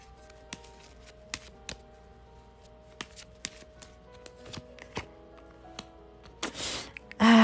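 Tarot cards are shuffled and drawn at a live reading: a string of sharp, separate snaps and taps at an uneven pace, ending in a louder burst of riffling close by.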